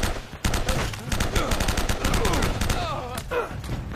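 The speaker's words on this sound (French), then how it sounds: "Qui m'a tiré dessus." Bursts of automatic gunfire and rapid shots from the Uncharted video game, loud and dense throughout with overlapping game effects, with a voice faintly underneath.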